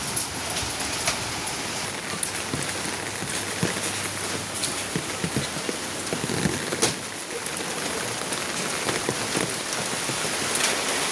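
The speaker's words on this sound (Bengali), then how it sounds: "জোরে বৃষ্টি বাড়ছে।" Heavy rain pours down steadily, a dense hissing wash of drops with occasional louder splashes close by.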